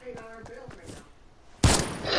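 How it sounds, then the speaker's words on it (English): Gunfire in Fortnite, apparently from an SMG, erupts as a loud burst near the end, following quieter game sounds and voices. "That was an SMG, we're dead."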